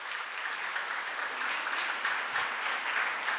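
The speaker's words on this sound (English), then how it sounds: "give a round of applause" Students and teachers applaud at the official launch of a civil services guidebook, a dense, sustained clapping that fills the whole stretch at an even, moderate loudness.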